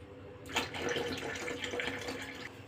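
Water is poured into a homemade sobia drink mixture of milk, sugar and sobia powder, beginning after a short quiet moment as a continuous close splashing stream that runs to the end.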